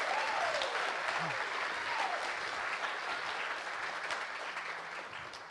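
A theatre crowd at the Sid Williams Theatre claps steadily in sustained applause at a screening, dense and even, slowly fading slightly toward the end, with a faint voice briefly underneath.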